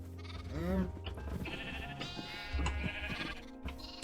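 Sheep bleat repeatedly in a farming and building video game, wavering cries one after another amid game effects and light background music.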